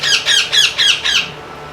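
A 47-day-old Indian ringneck parrot squawks five times in quick succession, loud, shrill and close, then falls silent.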